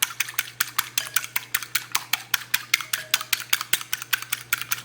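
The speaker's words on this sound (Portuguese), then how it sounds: "mexendo o ovo com o auxílio de um garfo" An egg beaten with a fork in a bowl, a rapid, even stream of sharp metallic clicks and taps, close and clear, with no talking.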